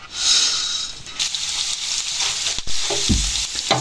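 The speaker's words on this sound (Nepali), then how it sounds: "साथीहरू तेल खरिसक्यो, अब चाहिँ म टिमुरलाई भुट्छु है" Timur (Sichuan pepper) sizzles and crackles steadily in hot oil in a pan, loud and close throughout, with a few sharp clinks and scrapes of a utensil near the end.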